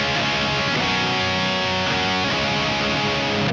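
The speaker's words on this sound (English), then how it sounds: "here is my guitar, and I am a half step down" Electric guitar tuned a half step down, a dense sustained strummed chord ringing loudly and evenly throughout before cutting off at the end, no talking.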